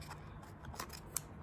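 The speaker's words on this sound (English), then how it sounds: "We're gonna get the scissors." Scissors snip at ribbon on a kitchen roll tube, a few quiet crisp cuts and small handling noises close by.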